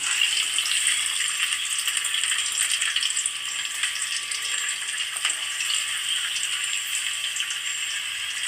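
Sliced onions sizzle steadily in a hot pan, a dense continuous hiss with small crackles throughout, close and fairly loud with no talk.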